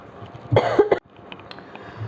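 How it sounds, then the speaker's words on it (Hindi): A short burst of coughing, a few quick rough coughs close by, followed by quiet room noise. "प्लीज़ गाइज मेरी खांसी से इरिटेट मत हुएगा"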